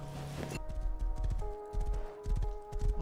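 Hooves of a fast horse clip-clopping in the survival video game Rust, a quick rhythmic trot of clear repeated strikes close by, with a brief whinny-like tone at the start.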